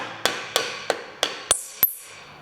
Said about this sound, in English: time to get the hammer out